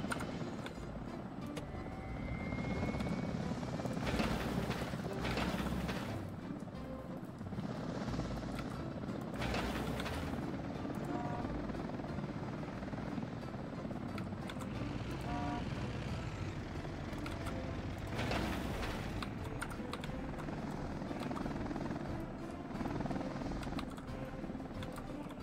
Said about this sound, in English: Watch as the helicopters go.